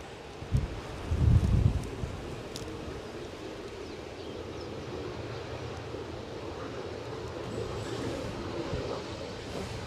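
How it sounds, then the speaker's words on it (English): Gusty wind at an airport plane-spotting spot buffets the microphone in a steady broadband rush, with a louder rumbling gust early on before settling into a constant blowing roar. "Wind's moving me about now."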